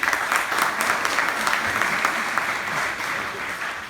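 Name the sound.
students applauding at college orientation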